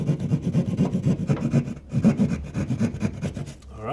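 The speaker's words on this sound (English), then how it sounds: "Let's go ahead and cut out for the electrical box." A hand saw cuts an opening in drywall for an electrical box during a conference room installation, giving quick, steady, rasping back-and-forth strokes that sound close and fairly loud, with a brief pause partway through.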